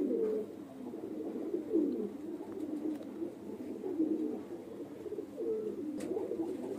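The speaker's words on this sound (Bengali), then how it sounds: "এটা মাদি পায়রা" A female pigeon coos in low, repeated throaty rolls that rise and fall in a steady rhythm, fairly close, against a quiet background.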